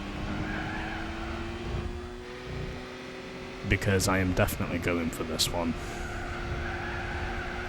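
A race car's engine revs and its tires skid in the video game Gran Turismo 4, loudest in a burst of screeching in the middle, heard under someone talking over the gameplay.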